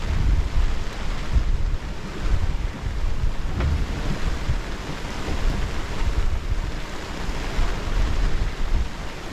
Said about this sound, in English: Wind's trickling back slowly.